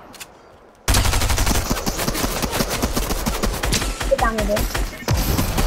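Rapid bursts of gunfire from the video game Fortnite, loud and sustained after a quiet opening, with a player's voice talking over the shots.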